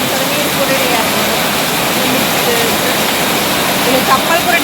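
Heavy rain pours steadily as a dense, even wash of noise, loud and close throughout with no break.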